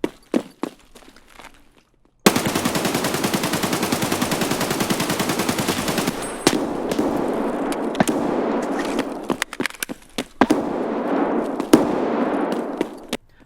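A long, rapid automatic burst from a video game gun sprays players on a bridge for several seconds. Scattered single shots and sharp thuds follow before and after it.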